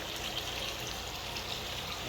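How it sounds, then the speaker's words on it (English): Water pours steadily into an improvised McDonald's hatchery jar in a tilapia hatchery, giving a continuous, even rushing trickle with no talk. "So after the water comes down here in the improvised McDonald's jar or AI jar, so the water will come here"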